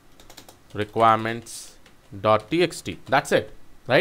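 Quick keystrokes on a computer keyboard as a pip install command is typed into a terminal, with someone speaking over the clicking.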